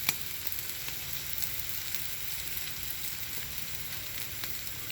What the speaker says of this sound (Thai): กำลังเดือดฝุดๆเลยค่ะ